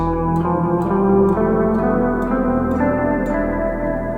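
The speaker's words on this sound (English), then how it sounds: "E Phrygian is the 3rd mode of the major scale." Guitar music in E Phrygian mode with a dark, exotic flavor, sustained chords and plucked notes ringing with heavy effects and echo, steady and fairly loud with no voices.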